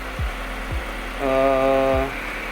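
A Honda Civic with a K20 engine idles steadily with a low rumble, a few brief thumps, and a short stretch where the engine note rises slightly before settling back.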